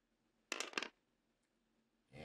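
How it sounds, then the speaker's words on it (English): A few dice rolled during an X-Wing miniatures tabletop game clatter in two quick bursts up close, then stop in near silence before another rattle at the end. "Three dice in the Kaz this time"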